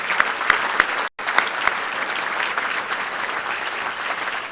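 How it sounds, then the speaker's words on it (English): Audience applause for a doctor and her staff at a 2008 county address, a steady dense wash of many hands clapping that runs throughout, briefly cut by a moment of silence early on, then continuing evenly. "I think that deserves another round of applause"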